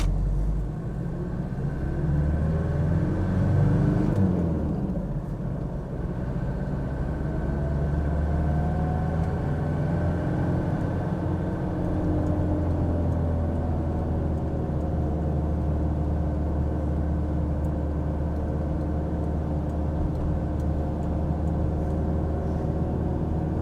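A 1991 Toyota Hilux LN106 double cab pulls through its gears, a steady close engine drone rising in pitch between shifts with a brief dip near the start, running continuously without talk.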